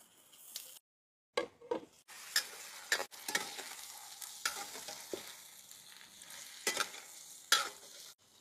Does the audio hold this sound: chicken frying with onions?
yes